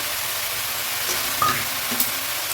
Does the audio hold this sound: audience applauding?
no